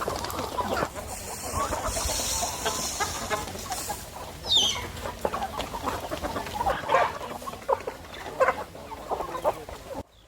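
Hens clucking on a farm while waiting for their morning feed, several birds near and far with overlapping clucks and a few louder squawks over a steady background.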